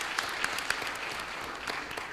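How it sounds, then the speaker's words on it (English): Faint, distant applause from a school board meeting audience, a brief thin patter of clapping with a few sharper individual claps standing out. "I think they deserve a round of applause as well."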